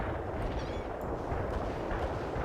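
Heavy artillery barrage in the strategy game World in Conflict: a steady, thick roar of booming shell impacts and crackling fire, fairly close and unbroken, with no talking over it.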